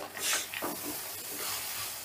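Tomato paste is stirred in a pan over a medium gas flame, giving soft scraping and rubbing strokes over a faint low sizzle, quiet and close with no voices.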